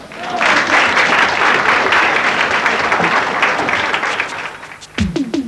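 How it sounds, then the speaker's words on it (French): Loud, sustained applause from a crowd, dense clapping for about four and a half seconds before it breaks off abruptly. "On l'applaudit quand même."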